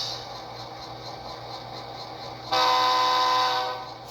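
A SoundTraxx sound decoder in a model train plays locomotive sounds: a steady rumbling hum, then a loud horn blast cuts in and holds for about a second before fading, with no talk.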